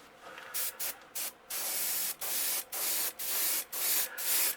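A spray can lays a gold base coat onto a crankbait lure in a series of close, loud hissing bursts, short at first and then longer sustained sprays separated by brief pauses.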